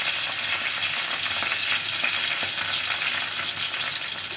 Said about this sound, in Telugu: ఆయిల్ వేడైనాక పచ్చిమిర్చి ఇట్లా వేస్తా.